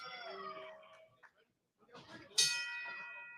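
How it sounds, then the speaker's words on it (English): A wrestling ring bell at an SICW opening match rings out sharply near the end, a bright clang with a ringing tail following a pause after a commentator's talk. "Senior referee Nick Ridenauer calls for the bell on this opening matchup."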